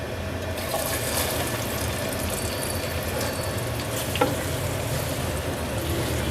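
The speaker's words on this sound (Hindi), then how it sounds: "प्याज हम तब तक फ्राई करेंगे जब इसका कलर लाइट गोल्डन होना शुरू हो जाए" Two finely chopped medium onions sizzle and crackle steadily in hot oil in a pressure cooker, a continuous close frying hiss with light stirring and no voices.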